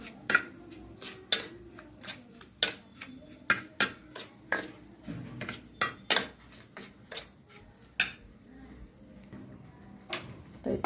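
Prawns being mixed by hand with a semolina (rava) and masala coating in a dish, giving repeated sharp clinks and scrapes against the dish at an uneven rhythm, close and fairly quiet.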